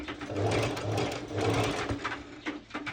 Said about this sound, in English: I go directly to my serger, and I will be serging it to secure it